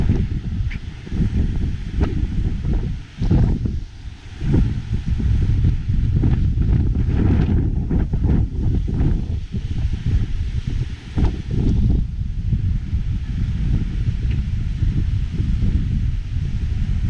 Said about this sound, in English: It's a bit windy down here.